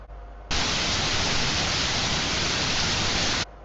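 Steady rain background recording played back, a dense, even hiss of rainfall that starts abruptly, holds loud and constant for about three seconds, then cuts off sharply.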